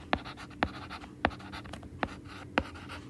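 Pen strokes scratching out a math answer on paper, five distinct taps and scrapes at a steady rhythm, close and fairly quiet.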